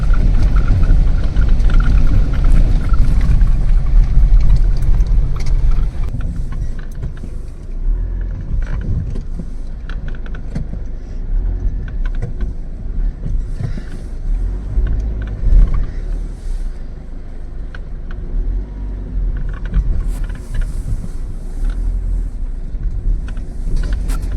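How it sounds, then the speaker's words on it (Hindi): A car crawls through running water on a rough, rugged mountain road on the way to Pangong Tso in Ladakh. A steady, loud low rumble of engine and road noise sounds throughout, easing somewhat after the opening seconds. "हमारी गाड़ी भी पानी का सामना कर रही है।"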